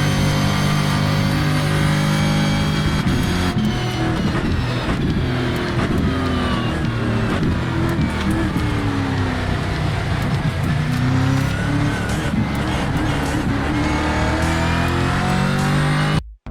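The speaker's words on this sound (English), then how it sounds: "with a V8 engine and the horsepower that they bring to the track." Brazilian Stock Car V8 engine in the iRacing sim game growls loudly and continuously for the whole stretch, rising and falling through revs with steady harmonic drone and no talk over it.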